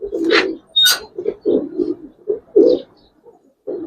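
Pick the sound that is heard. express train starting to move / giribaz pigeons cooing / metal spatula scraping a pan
giribaz pigeons cooing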